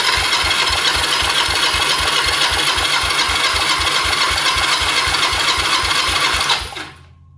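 Honda Rebel motorcycle engine cranking on the starter during a compression test, a loud rapid rhythmic chugging of even pulses that runs for several seconds and then stops abruptly.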